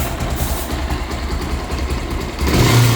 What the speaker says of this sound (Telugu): ఇది వచ్చేసి ఇంజన్ బీటింగ్ అన్నట్టు